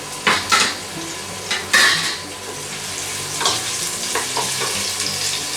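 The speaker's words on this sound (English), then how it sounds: "We're going to have this onion starting to sizzle" Steady frying sizzle of onion and crushed garlic in a hot pan, with a few louder scraping stirs and light clinks of a utensil near the start.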